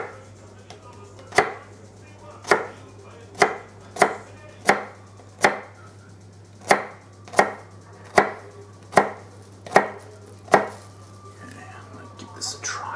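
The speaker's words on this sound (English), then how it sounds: "Then we chop it up into slices." A knife slices an ingredient for chicken ramen on a cutting board in steady, evenly spaced sharp chops, about a dozen crisp strikes over a low steady hum, with no talking.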